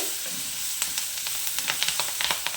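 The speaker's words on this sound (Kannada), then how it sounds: "ಈರುಳ್ಳಿ ಫ್ರೈ ಆಗ್ತಾ ಇರಲಿ." Onions frying with curry leaves in hot oil, a bright continuous sizzle with quick crackling pops that grow more frequent toward the end, close up with no talking.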